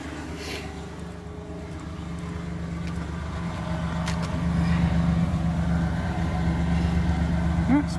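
A 1995 Ford Explorer engine idles steadily just after starting, a low continuous rumble that swells slightly louder midway, with faint background noises and no talk.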